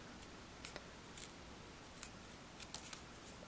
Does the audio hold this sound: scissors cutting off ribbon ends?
yes